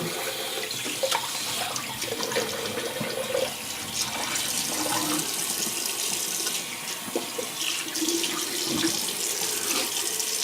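Tap water runs steadily for a cold rinse during a shave, a continuous close faucet stream with splashing as hands move through it, no voices.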